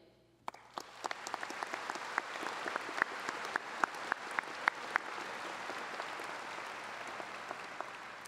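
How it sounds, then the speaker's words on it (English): An audience at a high school graduation ceremony breaks into applause, a dense crowd of clapping that starts abruptly, swells quickly and holds steady, with a few sharper individual claps standing out above the wash. "you can give her another round of applause"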